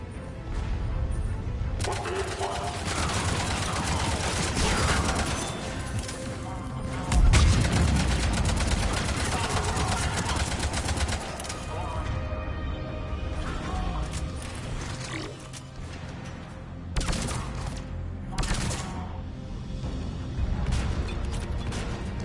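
Gunfire aimed at a turret in Mass Effect 3, sustained loud shooting with bursts and mechanical clanks, a heavy impact near the middle, and voices heard briefly amid the combat.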